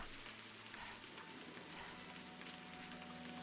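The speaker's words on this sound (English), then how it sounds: "It's gonna be raining for days now." Steady, even rain falls continuously in the video game A Highland Song, a dense broadband hiss of drops with a low background hum underneath and no voices.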